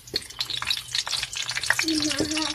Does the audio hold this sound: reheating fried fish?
yes